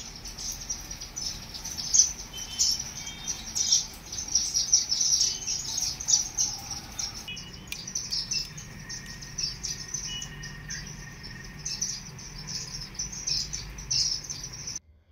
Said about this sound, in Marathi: यामुळे त्यांच्या घरात चिवचिवाट ऐकायला मिळत आहेत